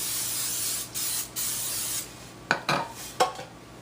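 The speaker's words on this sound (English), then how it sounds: "Okay, spray it on the top." Water sprayed from a bottle onto whole wheat bread dough: a few longer hissing bursts, then three short, sharp spritzes close up, with no talking.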